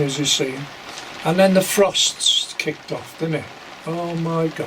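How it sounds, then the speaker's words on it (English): Rain falling outside on a shed roof, a soft continuous patter beneath people talking in the foreground. "if you can hear it now that it's raining outside now"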